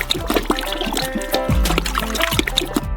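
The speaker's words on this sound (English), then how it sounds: "Five kilograms of gelatin should be poured into each of the juices." Gelatin is poured into large pots of juice while making a giant ice cream bar, giving a close, sloshing liquid sound with trickles and splashes over a low rumble, with no talking.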